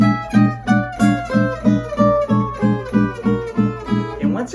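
Gypsy jazz guitar rhythm played with steady all-downstroke pulses, about a dozen even, loud strummed chords in a regular beat, alone without talk.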